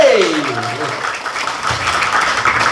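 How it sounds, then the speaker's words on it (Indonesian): An assembly crowd at SMP PGRI 8 Denpasar school claps for the principal, a steady, dense patter of applause that continues throughout while a voice speaks over it. "Tepuk tangan yang paling meriah buat Bapak Iketut Gede Adi Krista Sugara"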